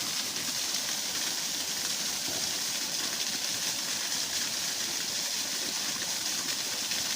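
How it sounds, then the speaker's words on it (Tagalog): Fast water rushes loudly and continuously, a dense steady roar and hiss like a swollen stream or falls close by, with no other sounds standing out. "malakas ngayon yung current ng tubig"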